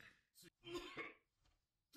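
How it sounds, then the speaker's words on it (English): A faked, acted cough from an anime episode: a few short throaty coughs and rasps, faint and broken up by gaps, with speech around them. "That's a fake cough if I've ever heard one."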